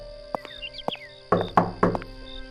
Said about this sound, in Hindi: तभी दरवाजे पर खटखट की आवाज हुई